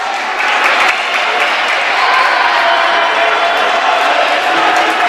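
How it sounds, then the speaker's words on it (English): Crowd cheering and applauding at a college volleyball match, a steady loud roar of voices and clapping sustained throughout with no pauses. "Crowd really getting into it now."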